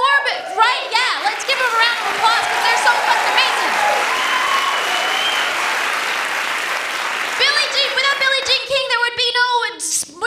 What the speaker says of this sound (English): let's give them a round of applause because they're so fucking amazing